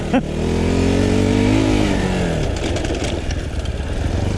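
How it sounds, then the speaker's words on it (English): Fantic Casa E250 motorcycle pulling a power wheelie in second gear, its engine revving hard and rising in pitch as it accelerates close by, then easing off. "Can the Fantic Casa E250 power wheelie in second gear?"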